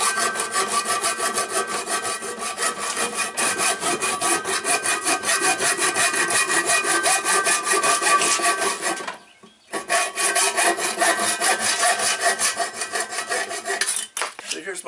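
Hacksaw cutting through a chrome bottle opener piece, a steady fast back-and-forth rasping that runs continuously and close up, with one brief pause midway before the strokes resume.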